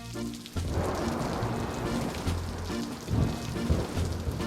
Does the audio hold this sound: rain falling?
yes